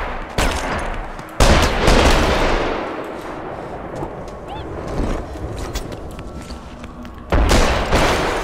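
Video-game gunfire crackles in several loud bursts of rapid shots, with quieter scattered fire between them, heard alongside players talking.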